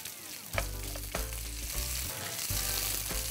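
Onions frying in a very hot pan, a loud close hiss of sizzling with repeated scraping stirs and bumps as they are moved around, steady and continuous with no voices.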